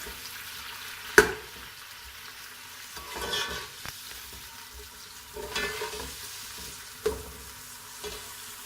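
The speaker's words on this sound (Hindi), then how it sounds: "तो हम प्याज को ब्राउन करेंगे थोड़ी देर।" Onions browning in a pan for homemade spicy chicken biryani, a soft steady sizzle of frying with a few sharp stirring clinks and scrapes scattered through, close by with no talking.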